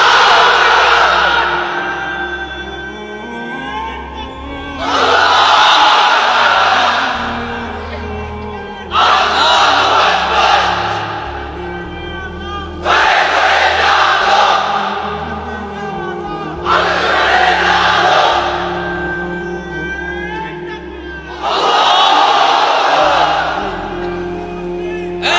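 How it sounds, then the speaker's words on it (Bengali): A large crowd of unmarried men at a religious gathering roars the takbir in response to a leader's call, loud massed chants rising in repeated waves, with a leader's voice calling between them. "এবার অবিবাহিতরা দাও লিল্লাহে তাকবীর"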